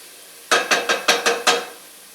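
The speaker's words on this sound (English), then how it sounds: "Give it a stir." A spoon stirring softened ingredients for cream of tomato soup in a pot over low heat, six quick scraping strokes in an even rhythm, close and fairly loud against a quiet background.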